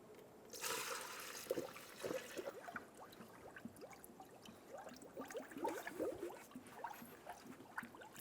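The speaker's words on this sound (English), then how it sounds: "Once the car stops bubbling," Soft bubbling and gurgling of coolant in a 2003-2007 Infiniti G35 cooling system, irregular small pops and trickles after an initial rushing hiss, fairly quiet and close.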